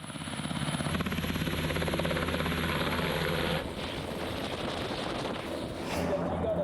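An NH-90 military helicopter running at a rescue training site, with a steady, loud rotor thrum and a whining turbine that fill the whole stretch, then ease slightly partway through while a voice talks over the top.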